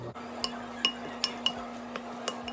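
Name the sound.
stirring potato salad in a bowl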